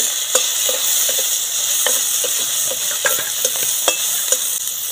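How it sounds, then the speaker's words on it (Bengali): Whole cumin, chopped green chilli and tomato sizzling steadily in hot oil, a loud continuous hiss with scattered crackles and pops, close up and without speech. "কড়াতে যে তেল ছিল সেই তেলের মধ্যে ফোড়ন দিয়ে দিচ্ছি গোটা জিরে, কাঁচা লঙ্কা কুচানো"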